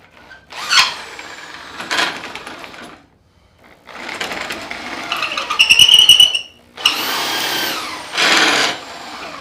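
Electric drill spinning a length of wood to turn a wooden dowel, with a cracking bit where it enters the drill: several close bursts of high whining and rattling, stopping and restarting, with a squealing tone midway.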